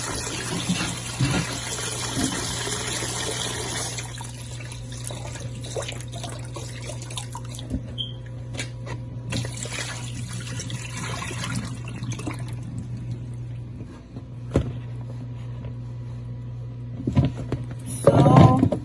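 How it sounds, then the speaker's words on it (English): Water splashing and sloshing as cassava is washed by hand in a basin, with running water early on and intermittent drips and swishes afterward. "My cassava, I wash it for like 4 to 5 times, so you can see it's really clean."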